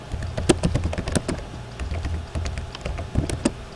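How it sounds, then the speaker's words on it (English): Rapid, irregular clicks of a computer keyboard as a sentence is typed, close and clear with no talking. "We'll just type a sentence."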